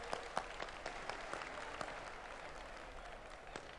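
Applause from an audience at an inauguration ceremony for a research institute in Haridwar, a steady dense patter of clapping with a few sharper claps, moderately distant and fairly even throughout, with no talk over it.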